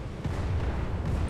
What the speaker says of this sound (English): this really does feel different now because you've got those cannons